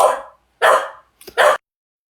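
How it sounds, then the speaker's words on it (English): A dog barks three times, loud and close, with short gaps between the barks and no other sound around them. "Damn dog."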